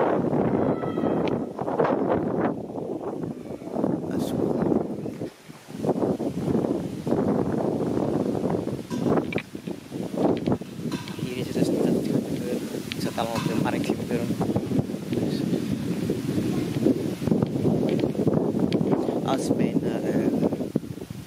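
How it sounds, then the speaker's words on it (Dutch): Gusty outdoor wind buffeting a microphone near a playground, heavy low rumbling bursts that rise and fall throughout while a person talks over it. "Zo'n wind."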